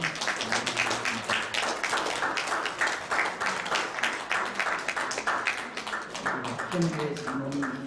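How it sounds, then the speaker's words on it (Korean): A church congregation claps in congratulation at an elders' ordination and retirement thanksgiving service, dense sustained applause throughout with voices talking over it toward the end. "박수로 축하해 주시면"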